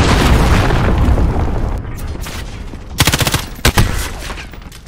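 A missile explosion in the Modern Warfare video game, a loud booming blast that rumbles and fades, followed by rapid bursts of gunfire cracking close by, with no talk over it.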